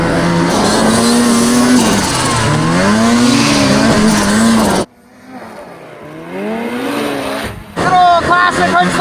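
A snowmobile engine revs hard with rising and falling pitch during a freestyle hood slapper jump, loud and close. It cuts out abruptly, then comes back fainter and picks up again.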